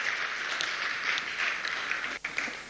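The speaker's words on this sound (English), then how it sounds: "Please, she deserves a big, big round of applause once again." Steady applause from an audience at a government award ceremony honouring a women's basketball team, a dense wash of clapping that holds evenly for a few seconds with a brief dip near the end.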